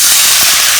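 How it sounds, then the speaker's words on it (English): A cup of water hits a hot non-stick pan with a loud, sharp sizzling hiss of steam that stays dense and constant for under a second. "Add in 1 cup of water"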